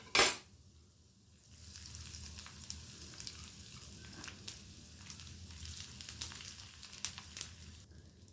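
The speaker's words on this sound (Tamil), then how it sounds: "30 செகண்ட்ஸ்லேருந்து 1 மினிட் வரைக்கும் வறுத்துக்கலாம் லோ ஃப்ளேமில்" Spices frying on a low flame in a pan for a ridge gourd peel thogayal, a soft steady sizzle that starts after a brief knock and continues with occasional light clinks of a utensil, no one talking.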